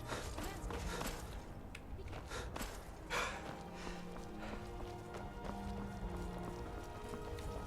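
Horse hooves clip-clop in a steady trotting rhythm in Skyrim amid faint background game sounds, with a brief snort partway through.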